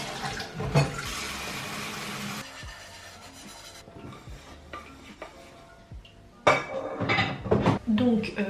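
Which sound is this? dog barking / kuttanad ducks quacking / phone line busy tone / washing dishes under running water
washing dishes under running water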